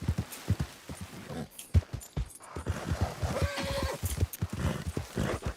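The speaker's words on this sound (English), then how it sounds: "Yeah, I ride the Mustang." A Mustang horse in a video game clip-clops with quick, close hoofbeats and lets out a clear whinny partway through.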